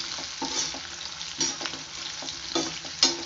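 Black sesame seeds are frying with pirandai in oil in a pan, giving a soft steady sizzle with a few spatula stirs and light scrapes, close by.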